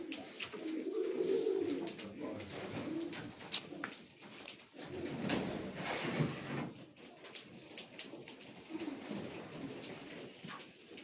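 Domestic pigeons, a two-year-old hen and a young cock, cooing softly in a loft, low murmuring calls repeating over faint background noise and a brief knock.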